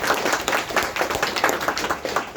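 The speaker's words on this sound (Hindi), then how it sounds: "अपने लिए जोरदार ताली बजाइए।" An audience at a Brahma Kumaris gathering breaks into loud, dense applause for itself, with rapid overlapping claps pulsing in waves from nearby.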